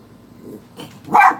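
Dogs barking at neighbors outdoors: a faint low woof, then a sharp, loud, close single bark near the end.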